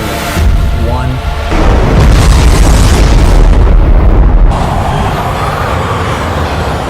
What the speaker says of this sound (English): The drone operator drops a bomb above them.